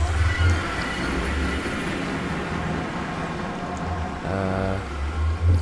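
A steady rumbling rattle of a moving train in Minecraft, continuous and fairly loud, with a brief mechanical hum swelling near the end.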